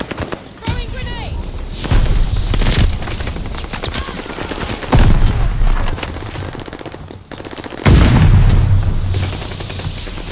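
Heavy gunfire and a loud grenade explosion in Call of Duty: Vanguard, with bursts of automatic fire and several booming impacts spaced across the scene, loud and close, with voices talking through it.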